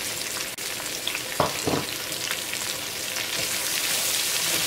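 Chopped onions, green chilies and curry leaves sizzle and fry in hot oil in a pan for Kerala dum chicken biryani, a dense, steady crackle with a couple of brief stirring sounds near the start.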